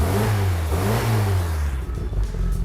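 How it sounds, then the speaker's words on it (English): A classic car engine revving loudly close by, rising and falling through a couple of throttle blips before settling toward a rougher idle, with no talk over it. "start your car up, give it a bit of a rev"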